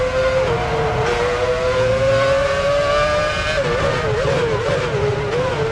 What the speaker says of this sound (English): Here comes Ralf Schumacher into the pits